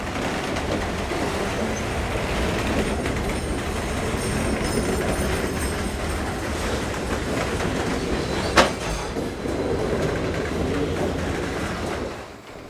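A train rolls over wet rails at historic Belair Station on the Adelaide line, a steady loud rumble of wheels and cars throughout, with one sharp metallic crack near the end before the sound tapers off.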